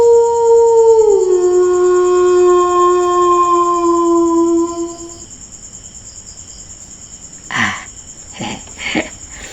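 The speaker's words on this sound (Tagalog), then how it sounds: "Yun yung tunog ng aso namin guys." A dog lets out a long, wavering howl for several seconds, then falls quiet while crickets chirp steadily, followed by a few short sharp knocks.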